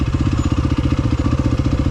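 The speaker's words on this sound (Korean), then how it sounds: "엔진을 막 돌리는 게 아니라 아이들이 거의 아이들링 수준으로 천천히 천천히 그리고 브레이크 잡아야 되니까" A Yamaha WR250F off-road motorcycle engine idles slowly, a loud, close, steady chugging pulse with rapid even beats throughout, no voices.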